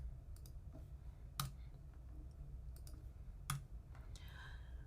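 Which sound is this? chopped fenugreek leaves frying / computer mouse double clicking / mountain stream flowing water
computer mouse double clicking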